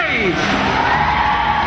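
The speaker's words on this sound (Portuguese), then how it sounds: "Cadê o grito de vocês?" Women triathletes at a beach race start shout and cheer together in a loud, sustained crowd yell.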